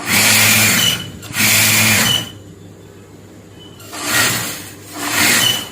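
An electric sewing machine stitches a blouse seam in four loud, close whirring bursts of about a second each, separated by short pauses and one longer silent gap.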